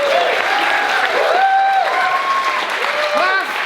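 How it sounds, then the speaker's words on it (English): Audience applause at the close of an evening class honoring a guest, a steady wash of clapping sustained throughout, with tonal voices or whistles riding over it. "Now you may applaud."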